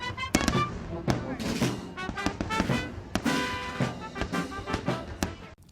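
Fireworks over the National Mall in Washington pop and crackle at irregular intervals, sharp bangs scattered over several seconds, with crowd chatter and voices murmuring underneath.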